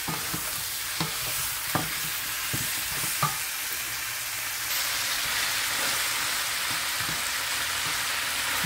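Ingredients for Filipino kare-kare stirred while frying in a pan: a soft continuous sizzle with several light scraping stir strokes, close and fairly quiet, the sizzle swelling a little louder toward the end.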